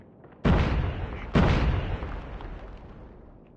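Two heavy grenade blasts in a video game boom in quick succession about a second apart, each a sharp loud burst followed by a long rumbling decay.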